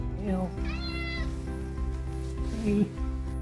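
Up close, a cat lets out a couple of meows, one rising and falling, another shorter near the end, over a steady low hum.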